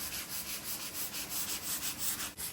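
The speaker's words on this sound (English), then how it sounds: "now we're lightly scuffing with a 220 grit sanding pad" Rhythmic back-and-forth scuffing of a 220 grit sanding pad on a coffee table finished with polycrylic, about a dozen quick even strokes, close and quiet.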